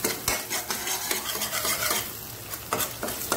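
A large ladle stirs fish masala frying on a tawa for an Anjal (kingfish) tawa fry, rasping and scraping in quick repeated strokes over a constant loud sizzle, with no voices.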